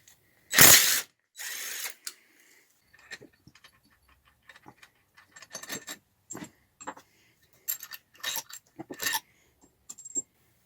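A socket ratchet clicks in short, rapid bursts while head bolts are loosened on a 79cc Predator engine, close and dry, after a louder initial rattle, with pauses between the clicking runs.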